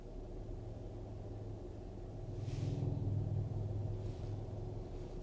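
A Gen 2 Pentastar V6 idling with one fuel injector disabled, giving a steady low rumble that swells slightly midway and stays close and even throughout.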